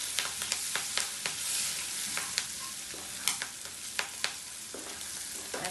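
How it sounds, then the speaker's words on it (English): Curry leaves and green chilies roast in a hot pan for pohe, a steady sizzle broken by sharp crackles and pops with occasional stirring scrapes, fairly close and without any talk. "Curry leaves, with green chilies. Roast them for 30 seconds."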